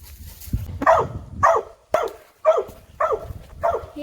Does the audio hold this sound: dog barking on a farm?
yes